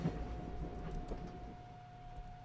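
A freight boxcar rolls along the rails in a video game, a steady low rumble with a faint sustained tone and soft clattering throughout.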